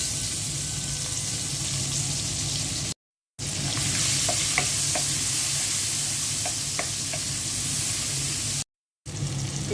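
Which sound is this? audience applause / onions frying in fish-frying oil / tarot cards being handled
onions frying in fish-frying oil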